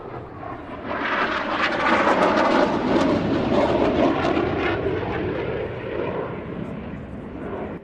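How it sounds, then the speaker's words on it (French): A loud, sustained F-16 fighter jet engine roar on takeoff swells and holds steady, a powerful broadband rumble that slowly fades toward the end. "le rugissement du moteur s'éloigne à l'horizon"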